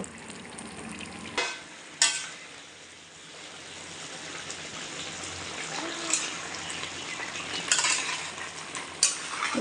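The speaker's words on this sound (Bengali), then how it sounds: "এদিকে মাটনটা করছি কষাচ্ছি মাটনটা পাকাচ্ছি" Mutton sizzles and sautés in a pan, with a continuous frying hiss broken by several sharp scrapes and clanks of a spatula stirring against the metal, close and fairly loud throughout.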